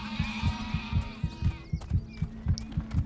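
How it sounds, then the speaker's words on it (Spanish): Steady heartbeat sound effect in the Overlord video game, regular low thumping pulses repeating about twice a second under a sustained game music drone, with a few small effect chirps. "Ese sonido de latido del corazón me va a estar fastidiando mucho."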